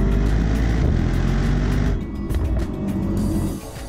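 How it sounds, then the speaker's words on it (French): The V8 of a Mercedes-AMG GT 63S four-door roars loudly under full acceleration, a dense, powerful drone that dips briefly midway and then surges again. It is heard alone, with no voices. "quand on écrase l'accélérateur, le V8 explose de rage, après un léger temps de réponse"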